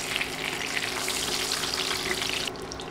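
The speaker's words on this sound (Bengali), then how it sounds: "30 সেকেন্ড নেড়ে চেড়ে মশলাগুলো ভেজে নিব।" Whole cardamom pods, cloves, cinnamon pieces and bay leaves crackle and sizzle in hot oil while being stirred for chicken khichuri, a steady close frying hiss that drops sharply in the last half second.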